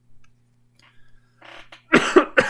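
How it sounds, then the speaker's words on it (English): A person with a bad cough of several days coughs a few times, close to the mic, after a quiet pause with faint sounds. "Sorry, I've had a bad cough for a few days."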